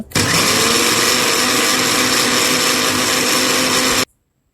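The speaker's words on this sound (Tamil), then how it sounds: "கடலைப்பருப்பையும் அரிசி மாவையும் மிக்ஸி ஜாரில் போட்டு நல்லா அரைச்சிக்கிறவங்க" A mixer grinder grinds chana dal and rice flour at full speed, a loud steady whirring grind that holds for about four seconds, then cuts off abruptly into silence.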